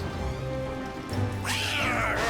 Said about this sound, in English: No one wants to pet a soggy cat.